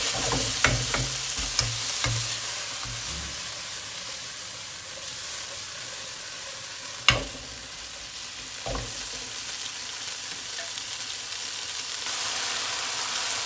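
Noodles stir-fry in a pan over high heat, giving a steady loud sizzle throughout with a few sharp clanks of the spatula early on and midway.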